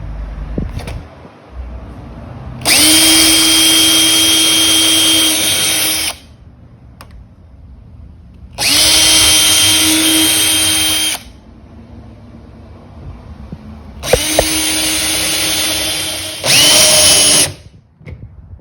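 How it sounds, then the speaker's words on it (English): A power drill drilling into a vintage campaign-style wooden end table leg whirs in three loud bursts of a few seconds each, with short pauses between, the last burst briefly stopping and restarting. "it is now time to drill in my pre-marked spots"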